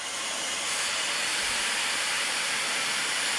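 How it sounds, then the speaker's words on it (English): iPhone background sound set to balanced noise: a steady, even broadband hiss that holds unchanged from start to finish, alone with no talk. "So balance noise,"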